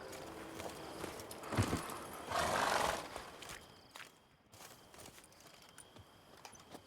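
Horse hooves clip-clop on the ground in The Witcher 3 video game, with a brief neigh and snort; steady footfalls under quiet game ambience.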